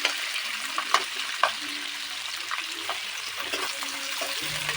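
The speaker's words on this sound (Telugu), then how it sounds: "వీటన్నిటిని కూడా బాగా కలుపుకొని గోల్డెన్ కలర్ వచ్చే వరకు కూడా ఫ్రై చేసుకోవాలి." Two sliced onions and green chillies frying in a pan, a steady close sizzle with occasional stirring scrapes and soft pops throughout.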